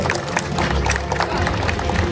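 Audience at a Hindu religious association's anniversary ceremony and Tamil New Year celebration clapping in a loud, continuous patter, with crowd murmur and some voices mixed in.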